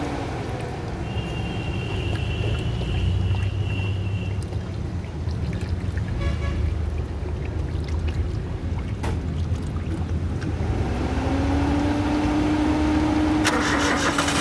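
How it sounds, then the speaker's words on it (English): A Suzuki Alto engine, just reassembled with a filled radiator, cranks and catches, then settles into a steady, loud idle with a rising tone near the end. "Now we have started the engine successfully."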